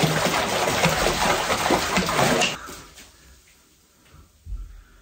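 Bath water is swished and churned by hand to whip up bubble foam in a bubble bath, a loud close sloshing that runs for about two and a half seconds, then fades to faint drips and a soft splash.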